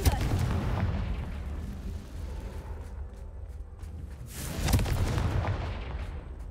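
Confringo fire spell explosions in Hogwarts Legacy, a booming blast at the start and another about two-thirds through, over a rumbling, crackling game soundscape.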